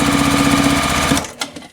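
Sewing machine running steadily while stitching quilt block pieces for a crown star block, a loud continuous whirring stitch that stops abruptly near the end, leaving a couple of faint handling clicks.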